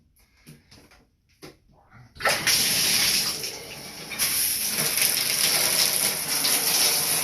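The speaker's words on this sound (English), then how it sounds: "So I'm letting the water go in my lower back, freezing cold." Faint clicks and handling sounds give way to a steady, loud rush of freezing cold running water splashing down over a person's lower back, continuing without pause and swelling slightly partway through.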